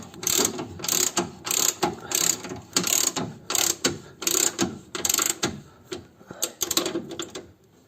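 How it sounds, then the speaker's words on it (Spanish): A ratchet wrench clicks in quick repeated bursts while tightening the lower bolt on a Citroen Jumpy suspension arm, close and loud with short pauses between strokes. "vamos a obligarlo a que baje a su sitio apretando el tornillo de abajo"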